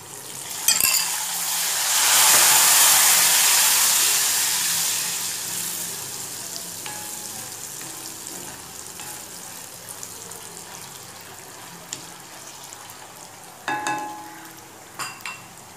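Jackfruit pieces fry in oil with a rushing, hissing sizzle that swells loud early on and then settles into a softer steady crackle, with a few clinks of a spoon near the end.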